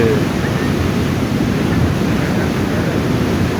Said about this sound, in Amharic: ከሸለቆ ተከትሎ የሚፈሰው ውሃ አለ።